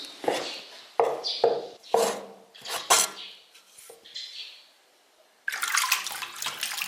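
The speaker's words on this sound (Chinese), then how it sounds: "咱要这个片料的黑鱼，咱给它洗干净，捞出来。" Sliced snakehead fish being rinsed in a bowl under running water, with irregular splashing bursts and handling clatter, then a gap of near silence before a steady rush of tap water resumes, close by.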